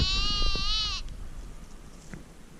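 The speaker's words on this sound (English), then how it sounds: "there's a really loud sheep outside my tent" A single loud sheep lets out one long, wavering bleat close to a tent on a wild camping site on the Isle of Skye, followed by quieter outdoor background.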